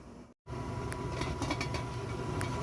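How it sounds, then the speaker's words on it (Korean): A pot of water boils hard on a burner to make wild mushroom tea. A steady, hissing bubbling noise carries on after a brief cut at the start, with a few faint clinks and no speech. "물이 팔팔 끓으니까 어, 저것을 이제 불을 약하게 해가지고 한 30분 이상 끓이면 되겠죠."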